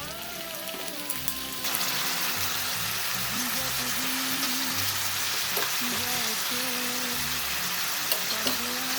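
Potato and pointed gourd frying in a pan with ground ginger, cumin and chili paste, a steady close sizzle that swells louder after the paste goes in, with low clatter of stirring beneath.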